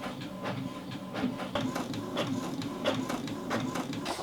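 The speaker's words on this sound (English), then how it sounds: "And then I'm going to press print." An inkjet-style home printer prints a single page of a PDF sewing pattern, its carriage making a steady run of rhythmic mechanical passes and clacks at close range, with no talking.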